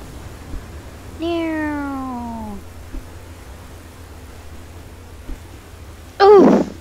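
A person imitates a cat's meow, one long drawn-out falling meow in the middle, then a short sharp loud meow near the end, with quiet background in between.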